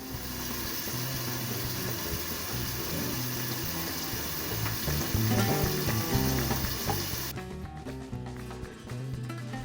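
Egg curry sizzles steadily in a pan as chili powder is stirred in, with a continuous loud frying crackle and scraping. Near the end the high hiss drops away sharply and only lower stirring and bubbling remain.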